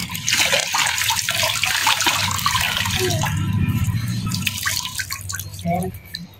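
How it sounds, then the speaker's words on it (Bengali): A soaped cotton T-shirt is rinsed under running water, with steady splashing and dripping close by while someone talks over it. "গেঞ্জিটা এখন ধুয়ে আপনাদেরকে দেখাবো দাগ আছে কিনা।"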